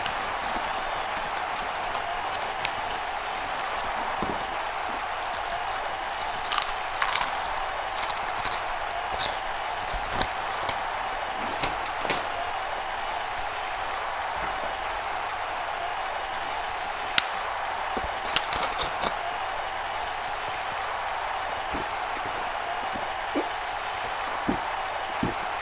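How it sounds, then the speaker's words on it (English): A loud Las Vegas arena crowd in the wrestling game WWE 2K19 roars steadily through a Kane versus Shane McMahon exhibition match, a dense continuous wash of cheering with scattered sharper claps and shouts and no clear break. "This Vegas crowd really is this loud."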